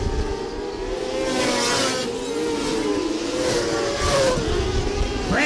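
600cc micro sprint race cars on a dirt oval at Thunder Hill Speedway during a night race, engines screaming at high revs with rising and falling pitch as cars sweep past, a steady loud field of overlapping motors.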